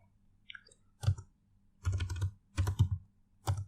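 Typing on a computer keyboard while entering a MySQL query: several short bursts of close clicking keystrokes separated by brief pauses, in a quiet room.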